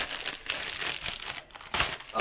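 Crinkly plastic packaging is torn open and unwrapped from a second bag, giving close, loud bursts of crackling and rustling with brief pauses between handfuls.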